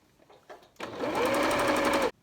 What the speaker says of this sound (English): Once you've finished sewing all of your pairs, cut it off the sewing machine